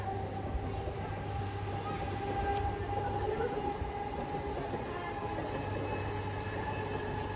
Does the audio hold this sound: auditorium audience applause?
no